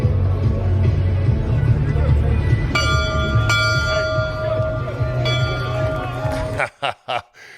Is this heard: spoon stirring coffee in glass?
no